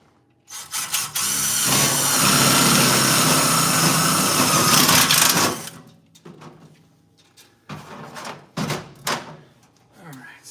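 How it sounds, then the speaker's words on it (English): A power drill bores holes in panels of a Factory 5 car build, running in one long steady burst near the mic, followed by shorter intermittent bursts and handling clatter with some talk. "Drill that hole there."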